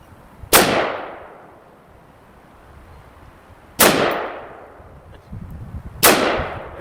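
A rifle with a Bear Creek Arsenal 18-inch fluted stainless barrel fires three loud outdoor shots spaced a few seconds apart, each a sharp crack trailing into a decaying echo.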